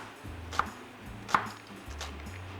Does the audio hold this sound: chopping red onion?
yes